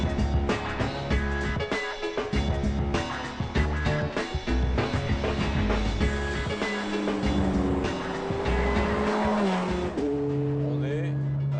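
A Ferrari F430 Scuderia sports car drives a dry forest road, its engine note rising and falling steadily and loudly throughout, with cabin rumble and shifting tones alongside.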